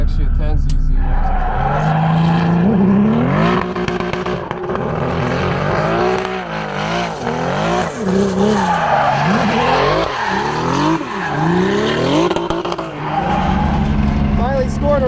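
Drift car skidding at a Pocono Raceway drift event, tires squealing loudly and continuously with engine revving rising and falling throughout, close and dominant, with voices faintly underneath.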